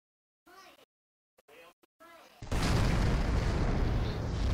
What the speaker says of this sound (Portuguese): nave explodiu, mas eu consegui me mandar